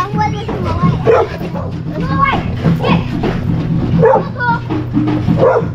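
Several dogs barking and yipping in rough territory, loud and close, mixed with people talking and children's voices in a busy outdoor setting.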